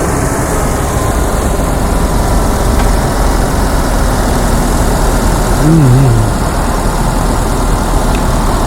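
A car engine turns over and settles into a steady idle, with a brief rising whine partway through over continuous low mechanical rumble, while a lead-acid battery is being tested.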